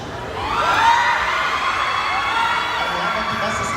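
A press conference audience of fans breaks into loud, sustained shouting and cheering for the actors, a dense wall of high excited voices that swells early and holds steady throughout.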